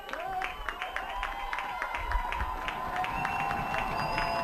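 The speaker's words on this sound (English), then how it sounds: "Excitement levels through the roof for this Junior Blues crowd." The Junior Blues crowd at a high school boys 6A soccer championship cheers and claps at a distance, a steady wash of crowd noise with scattered sharp claps and low thumps from the field.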